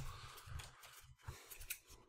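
Scissors snipping strings on toy packaging, a series of short close cuts in an uneven rhythm, quiet and with no talking.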